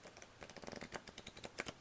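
Oracle cards are shuffled by hand, a rapid series of faint, crisp papery flicks and taps in quick irregular rhythm, close and quiet with no talk.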